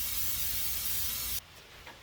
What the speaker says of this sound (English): give it a spray down with a brake cleaner